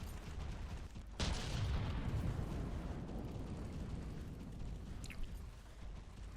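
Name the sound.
missile barrage explosions in a robot combat video game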